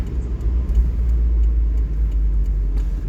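Daihatsu Copen 1.3 16v Sport driving with its convertible roof down, a steady low engine drone and road rumble with wind noise, close and continuous.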